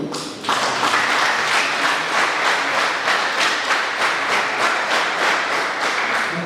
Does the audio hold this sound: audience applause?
yes